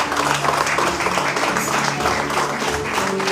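Church congregation in Dubai claps together as someone is called forward, a steady wash of applause under faint background voices and a soft musical tone, continuous and moderately loud.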